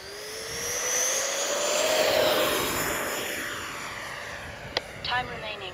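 A radio-controlled F-16 jet with a 70mm electric ducted fan flies past, its steady high-pitched whine rising and falling in pitch as it passes, with a faint voice over the top.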